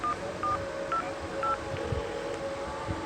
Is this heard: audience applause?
no